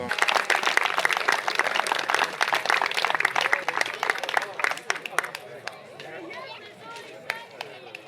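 Applause for cyclists crossing the finish line at a mountain bike marathon, a dense patter of clapping that is strong at first and thins out after about five seconds, with voices chattering under it.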